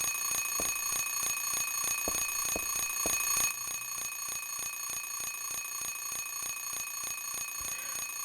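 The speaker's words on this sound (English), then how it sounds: "We're going to turn off the alarm." An alarm clock in the video game Silent Hill 3 rings in steady rapid electronic pulses, evenly repeating throughout, slightly louder at first and then continuing at a lower level after a few seconds.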